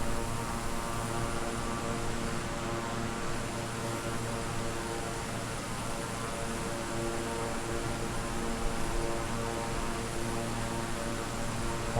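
Concorde airliner engines in Microsoft Flight Simulator, a loud, constant roaring drone with a steady tonal hum layered through it, unbroken and with no voices.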